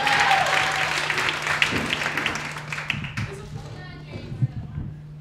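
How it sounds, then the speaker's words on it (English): An audience at a comedy night bursts into applause that is loud at first and then tapers off over several seconds, with a low steady hum and a few scattered voices as it dies down. "You guys can clap."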